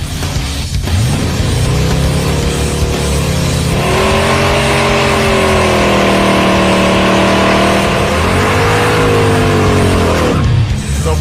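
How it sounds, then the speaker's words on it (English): The Draguar, a car given a parking-lot engine swap for more power, roars through a burnout: the engine revs up hard, holds a loud sustained howl for several seconds, then drops and climbs again before cutting off. "Let's do a burnout."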